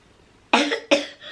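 Two sharp coughs in quick succession from a young voice, close to the mic, with a brief raspy tail after the second.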